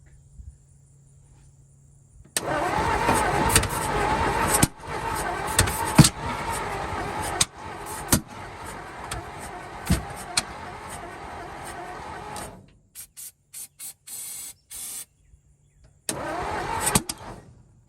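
A 1949 Ford truck engine, unrun for over 45 years and suspected of stuck valves, cranks loudly and repeatedly, turning over in long churning bursts then a series of short stuttering pulses before cranking again.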